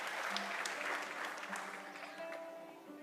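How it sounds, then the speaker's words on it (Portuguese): Steady applause from a church congregation fills a reverent hall, the clapping broad and sustained before slowly thinning toward the end as a faint tone lingers underneath. "Mais uma salva de palmas para essas pessoas."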